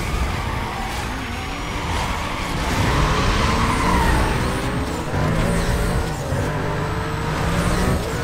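A Porsche roars along in Need for Speed Most Wanted, its engine holding a steady loud drone with rising and shifting pitch and faint tyre hiss, continuous and close.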